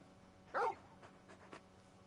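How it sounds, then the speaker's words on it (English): Torgal, the large wolf-dog companion in the video game Final Fantasy 16, lets out a single short bark near the middle, followed by a few soft faint sounds against a quiet background. "You're just a big puppy, aren't you? A very big puppy."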